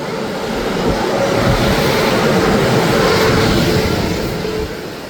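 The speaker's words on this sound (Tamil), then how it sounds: "நியூ டெல்லியிலேருந்து கேரளா திருவாண்டம் வர டெய்லி வரக்கூடிய கேரளா எக்ஸ்பிரஸ்." A loud, continuous roar of the Kerala Express train passing, rising and holding steady before easing slightly at the end.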